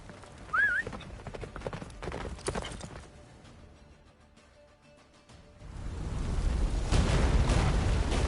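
Roach, the horse in The Witcher game, gallops with steady hoofbeats, joined by a faint whinny and rumbling game effects that swell into a heavy, rushing roar.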